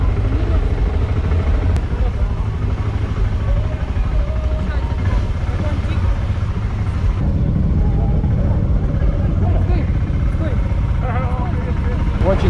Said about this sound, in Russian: И тихий такой, приятный, что он не рычит, как обычно.